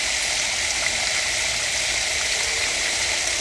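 A garden hose sprays water under strong pressure while plants are watered, a steady hissing rush that stays even and close throughout with no talk over it.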